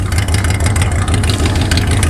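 Old Oldsmobile Rocket engine idling in a square body truck barn find, run rich for years, with a steady low, throbbing rumble that stays loud and close throughout without any talking.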